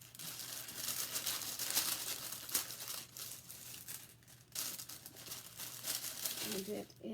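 Paper crinkling and rustling as a Gucci package is unwrapped, a continuous close crackle with sharper tearing bursts and a brief lull, while a voice speaks softly in the background.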